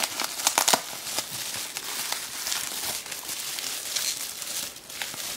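Gift packaging crinkles and rustles as it is unwrapped by hand, with a close, continuous crackling that is busiest at the start and carries on for several seconds with no talking.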